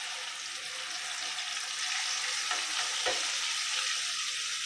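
Masala is sautéed and stirred in a pan, giving a dense, close, hissing sizzle, with a scrape or two of the spoon partway through.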